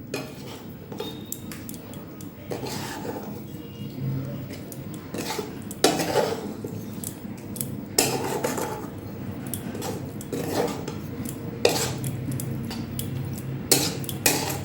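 A spoon works pickle around a dish, mixed with beet pieces and fenugreek. Steady scraping and clinking of metal on the dish repeats throughout and stays close, with a few louder knocks.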